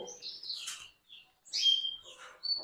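Canary chicks in a breeding setup give soft, high chirps and short tweets in scattered bursts, quiet and close with silent gaps between calls.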